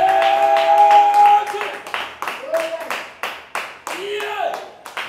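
A church congregation claps together in praise of Jesus, loud and close. It opens as dense applause, then settles into separate rhythmic claps, with voices calling out beneath it.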